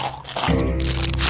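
Potato chips crunched in a short burst of loud, close crisp crackling, with no talk.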